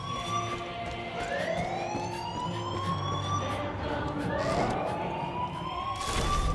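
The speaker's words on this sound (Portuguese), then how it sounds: "mas eles conseguiram tocar o alarme antes." In the video game Far Cry 5, an alarm siren wails in rising and falling sweeps over a busy game soundscape, loud and continuous throughout.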